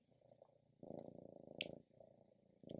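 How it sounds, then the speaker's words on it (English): A friendly cat purrs close up in a steady, low rumbling rhythm that swells louder in stretches, with a few faint higher sounds above it. "Oh, you're purring."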